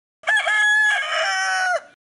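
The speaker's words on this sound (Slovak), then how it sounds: "No ten kohút, čo je pri tvojej posteli." A rooster beside a bed crows once, loud and close, one long cock-a-doodle-doo of about one and a half seconds with no voices around it.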